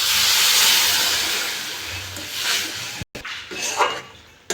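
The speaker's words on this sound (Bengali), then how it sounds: "আমি এবার জল দিয়ে দেবো," Hot water poured into a hot pan of paneer ghotala bursts into a loud, rushing steam hiss and sizzle that slowly fades, then flares again after a brief break, with faint clinks of the pan.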